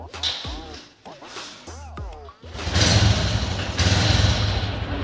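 A few thuds and scraping strokes of a kick start, then a Honda Livo motorcycle engine catches and runs loudly with a steady, throaty rumble up close.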